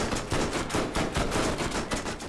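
Rapid gunfire in the video game Borderlands, a dense, continuous stream of shots and bursts with steady loudness and no pauses.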